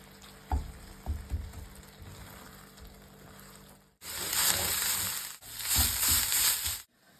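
Meat filling for an egg roll frying in a pan, with quiet clatter and stirring first, then two loud, sustained bursts of sizzling close up.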